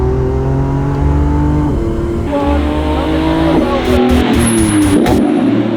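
A Lamborghini Revuelto hybrid at a private race track, its engine loud and near, revving through rising gear changes with brief tire squeal and a whine near the end.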